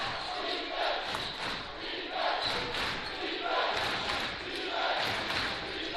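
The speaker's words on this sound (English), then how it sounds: "Listen to this crowd" A basketball arena crowd at a Wesleyan vs. Amherst men's game roars in swelling waves, loud and continuous, with cheers rising and falling and no clear speech above the din.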